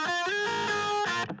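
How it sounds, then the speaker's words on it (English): Distorted rhythm guitars on a mix bus, a dense, saturated wall of sustained chords held steadily for about a second before cutting off abruptly. "So we have the guitar rhythm bus that sounds like this"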